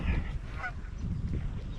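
Canada geese honk in a few short calls over a steady low rumble of background noise, moderately close but not loud. Recorded in New Zealand.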